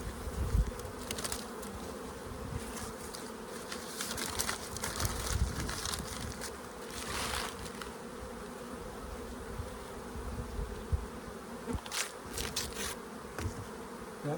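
Bees buzz around a small indoor hive set up with a paper boost, a steady close swarm hum with individual insects droning loudly past at intervals.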